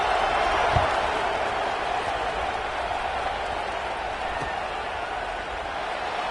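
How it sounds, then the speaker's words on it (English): Simulated stadium crowd in a Nittany Lions football video game buzzes steadily after a score, a broad, even murmur of cheering with a faint thump early on. "this crowd is buzzing after that last score."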